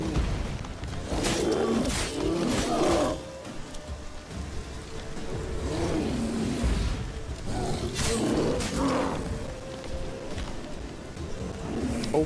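Deep growling roars from a bear in The Witcher 3 video game come in several loud bursts over a constant rumbling bed of fight and ambient sounds.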